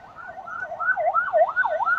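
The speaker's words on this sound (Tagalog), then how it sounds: "may ambulansya" Ambulance siren wailing in a steady rising-and-falling pattern on a city street in Dipolog City, fairly loud and continuous, with no talk over it.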